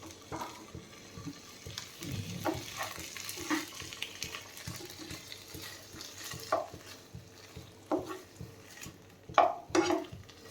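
Boiled chicken shallow-frying in butter in a pan: a soft, quiet sizzle under intermittent clinks and scrapes of a utensil stirring and tapping the pan, with no talking.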